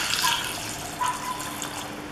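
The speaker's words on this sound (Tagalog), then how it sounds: "And then, lagyan na natin ng tubig." Water is poured into a deep pot holding quail eggs, a steady close splashing and trickling that runs with little change for a couple of seconds.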